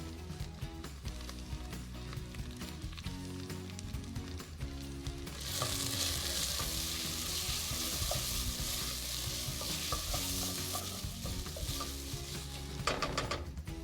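Tomatoes and finely sliced, deseeded green chili cook in a pan for a Sri Lankan curry, a steady sizzle that swells louder midway and continues alone without talk.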